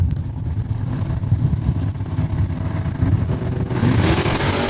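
Drag racing cars launching at Saskatchewan International Raceway, including a Duster and an Oldsmobile 442: a loud, continuous engine roar and rumble at close range, swelling toward the end as the cars accelerate away.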